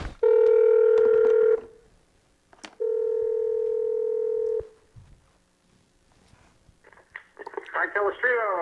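A phone number is dialed for a call-in radio talk show, giving two long, steady, loud telephone tones with a short gap between them, followed by faint, broken line sounds.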